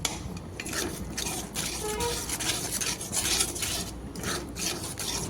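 Spices with poppy seed paste, salt and turmeric are stirred and scraped in a pan of oil while cooking a koi fish curry, making close, continuous rasping and scraping strokes in an uneven rhythm, with no talking.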